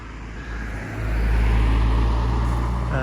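Lead truck of a 125-tractor convoy approaching, a steady engine rumble that grows louder and closer midway, with broad road noise and no talking.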